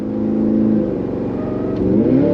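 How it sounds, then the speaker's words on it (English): A 2023 Cadillac Escalade-V's V8 accelerates hard, its roar dipping briefly at a quick gear shift and then climbing in pitch again, loud and close. "love that V8"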